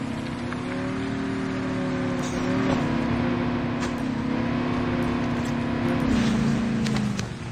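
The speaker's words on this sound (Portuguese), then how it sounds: "Chegando carro aqui, família." A car engine in the Call of Duty Mobile battle royale game drones steadily at a close, moderate level, its pitch wavering slightly and dipping near the end, with faint game sounds around it.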